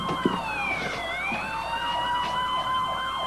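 Wailing sirens rise and fall continuously, several overlapping at once, loud and fairly close with a steady traffic rumble underneath.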